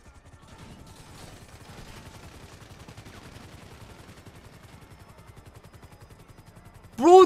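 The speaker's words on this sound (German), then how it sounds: "Bro, die schießen!" Rapid bursts of automatic gunfire crackle through a GTA 5 roleplay firefight, a steady rattling volley under shouting voices, ending with a loud sharp blast.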